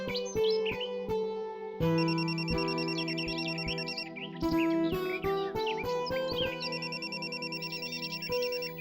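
A phone rings with a call from a local number, its electronic ringtone sounding as a loud, repeating melodic trill over steady background music, with no talking.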